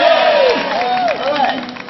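Street show crowd at a busking performance in Surfers Paradise cheers and shouts loudly, rising and falling voices of many people close by, with some scattered clapping.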